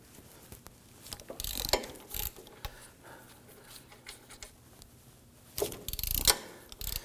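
A ratchet wrench loosening the 16mm brake caliper bolts on a 2008-2011 Ford Focus, with several short bursts of rapid clicking in between quieter pauses, close up and without speech.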